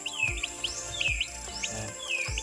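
Newly hatched chicks give a series of high, thin chirps and peeping calls, repeated every half second or so, close by over low background thumps and rustling.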